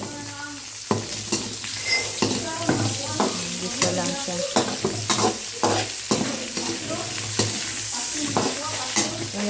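Pork belly (liempo) fries in hot oil with a steady, dense sizzle and crackle, plus scattered sharp pops and stirring clatter; a voice briefly speaks over it.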